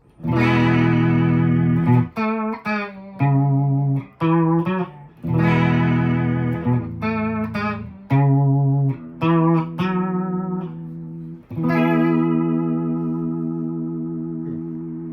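An electric guitar on its bridge pickup played through a Behringer UV300 Ultra Vibrato pedal, loud chords and short phrases with a wavering, warbling pitch modulation, ending on a long sustained, shimmering chord.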